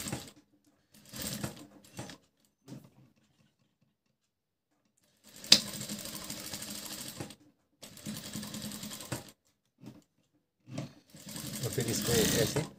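A sewing machine stitches fabric for a tassel made from leftover cloth, running in several separate bursts of varying length between quiet pauses, close and fairly loud.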